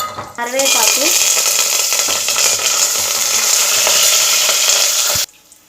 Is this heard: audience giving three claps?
no